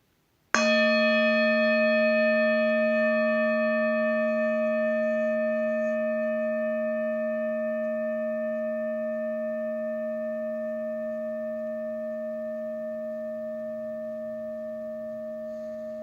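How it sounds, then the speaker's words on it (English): A meditation bell is struck once with a bright onset, then rings with a steady, pure tone that slowly fades over many seconds toward silence, with no other sound. "So just follow the sound of the bell. Follow it as it's fading into silence."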